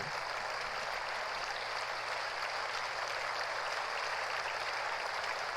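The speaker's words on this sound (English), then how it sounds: "There's too many people applauding." Steady applause from a large crowd, dense and continuous throughout, with a faint low hum underneath.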